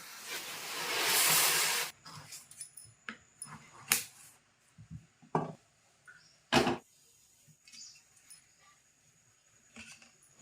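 A short, loud burst of steam hissing, then quiet scattered clicks and knocks of kitchen activity.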